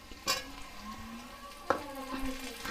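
Soft sizzle of onions and chopped tomato frying in a pan, with a couple of sharp utensil scrapes and clinks as they are stirred, fairly quiet and close.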